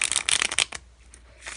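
A deck of playing cards is shuffled in a quick, close burst of papery riffling flutters. The burst stops after under a second, then a brief softer rustle follows.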